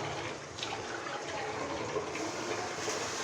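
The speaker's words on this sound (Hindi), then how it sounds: "अब इसको थोड़ा सा पानी का छींटा लगाते हैं" A small splash of water hits hot chana dal spices with turmeric powder and dried fenugreek. It makes a steady close hissing gush that runs without pause for a few seconds.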